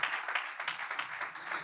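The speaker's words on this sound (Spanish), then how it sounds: "Dar un aplauso al Señor por su palabra" A church congregation claps together during a sermon, a fairly quiet, even patter of many hands lasting under two seconds with a slightly distant, roomy sound.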